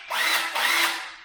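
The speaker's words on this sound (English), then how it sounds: "This is a Porter cable brushless impact, and this is a Craftsman brushed impact, and you can hear the difference." A Porter Cable brushless impact driver whirring in a brief, close, loud burst with two quick pulses of its motor, heard alone.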